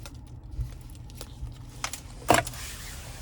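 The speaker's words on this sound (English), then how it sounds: "And then here's the key fob." Key fob of a 2018 BMW X3 M40i being handled inside the car, faint clicks and a brief jangle of keys, quiet and close.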